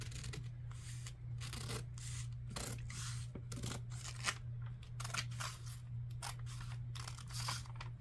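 Scissors snip through paper at a craft mat in a steady run of quick, close cuts over a low constant hum.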